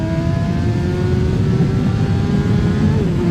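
A 200-horsepower Italian motorcycle engine roars steadily and loudly, with the pitch rising slightly as it revs, and no voices.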